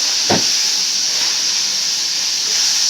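Spices and crab masala sizzling while being sautéed in a pan, a loud steady hiss close by throughout, with one short stir sound near the start and no talk.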